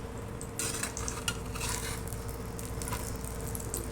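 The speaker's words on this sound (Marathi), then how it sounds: "हा जो आपला पोळीचा रॅप आहे तो आपण शॅलो फ्राय करणार आहे बटरवर" A chapati mushroom wrap shallow frying in butter in a pan, a continuous sizzle with bursts of spattering and light utensil clinks, close and unaccompanied by speech.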